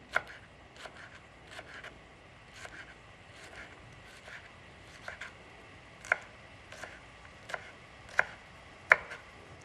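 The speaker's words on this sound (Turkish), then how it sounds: "Biberimi şöyle ortadan ikiye bölüyorum. Bunu da aynı şekilde ufak ufak şöyle keseceğim." A knife chops a pepper into small pieces on a cutting board, with a series of crisp, irregularly spaced taps that are close but fairly soft over a quiet kitchen background.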